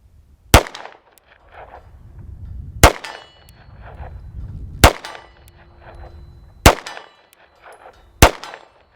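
CZ 75 PCR 9mm pistol fired at a steel target 41 yards out on an outdoor range: five sharp shots spaced about two seconds apart, each followed by a bright metallic clang, with no talking.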